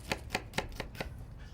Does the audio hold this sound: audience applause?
no